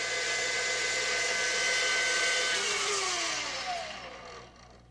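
An electric mixer whisks egg whites toward soft peaks, a steady loud motor whir that holds at high speed and then slows and fades near the end, with no talking.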